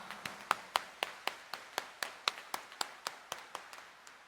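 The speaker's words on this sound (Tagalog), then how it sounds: "itaas nga ang kamay at pumalakpak ng mas malakas" Steady rhythmic clapping during a Catholic Mass at Quiapo Church, about seventeen evenly spaced claps in a quick beat, fairly clear and close with little else around.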